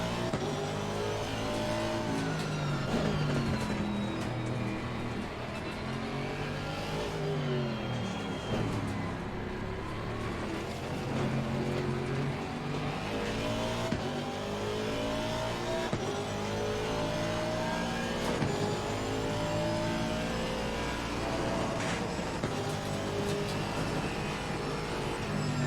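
Race car engines roar and rev hard through gear changes in Assetto Corsa Competizione at Zandvoort, a continuous loud drone of several cars accelerating together, with tyre noise and no talk.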